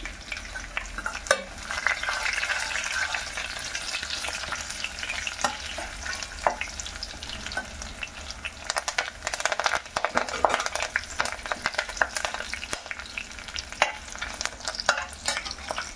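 Green chillies and dried red chillies frying in hot oil with garlic, a steady close sizzle and crackle with occasional stirring scrapes, continuous for the whole stretch and no talking.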